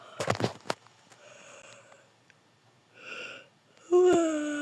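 A person yawns in a breathy exhale that turns into a voiced, drawn-out sigh, following scattered clicks and soft noises.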